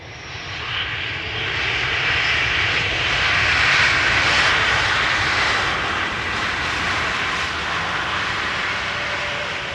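JetBlue airliner arriving at Amsterdam Schiphol from New York JFK, a loud sustained jet engine roar that swells gently toward the middle and stays strong to the end.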